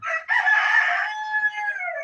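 A young red rooster crows once, close and loud, a single drawn-out call lasting about two seconds with no other voices around it.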